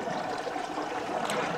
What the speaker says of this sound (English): it will change over onto the other water valve. This will continue filling.